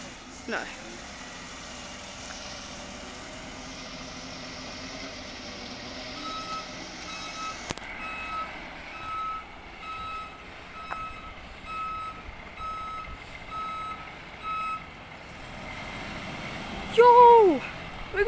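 Enviro NZ waste truck reversing on a suburban street, a regular series of reverse-alarm beeps at moderate distance over engine hum, ending with a louder burst of engine and brake noise nearby.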